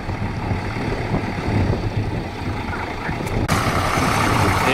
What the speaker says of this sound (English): Well used, big old diesel, right?